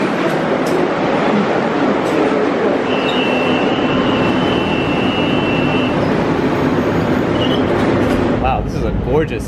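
Buenos Aires subway train of ex-Madrid stock pulling into a station, a loud continuous rumble and wheel noise with a long steady squeal partway through and brake hiss near the end; people talk faintly underneath.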